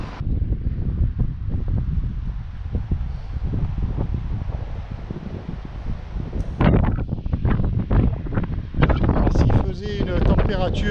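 Strong wind buffets the microphone in a steady low roar, with louder gusts and rustling later on, at a scenic outdoor viewpoint in Calvi, Corsica; no voices stand out.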